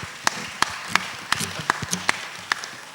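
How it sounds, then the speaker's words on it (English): Scattered audience hand claps at a British country songwriters show at the Medway Arts Centre: about eight sharp, separate claps spread unevenly over a soft room murmur, sparse rather than a full ovation. "Give a round of applause"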